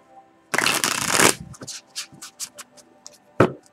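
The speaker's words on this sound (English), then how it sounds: "And one more shuffle" A deck of cards is riffled in one quick, loud burst during a card reading, followed by several soft taps and flicks as the cards are squared up.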